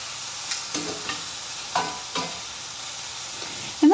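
Chicken breast frying in a pan with mushrooms in butter sauce gives a steady close sizzle, broken by a few soft scrapes and taps of a utensil as it browns, with no talking.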